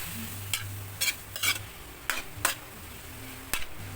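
Pork strips for Bicol Express browning in a pan with a steady sizzle, broken by several sharp utensil scrapes and taps at irregular intervals, close and fairly loud.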